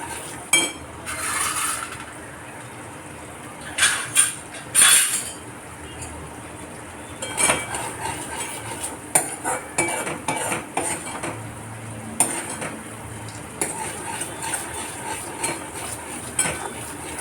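A spoon stirs fennel sharbat in a metal pot, with repeated clinks and scrapes against the pot sides in irregular bursts, close and fairly loud, no talking.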